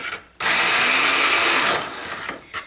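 Kitchen blender pureeing cooked milk for soap making, a loud steady whirring roar that starts abruptly, runs for over a second and cuts off, close by with no talking.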